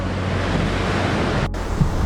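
Strong wind and crashing surf at a surf spot roar continuously, loud and close, with gusts buffeting the microphone.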